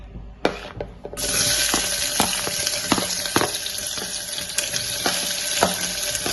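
Shallots, onion and curry leaves hiss loudly as they sauté in a hot pan, a steady bright sizzle broken by repeated sharp spoon taps against the pan, close and continuous with no voices.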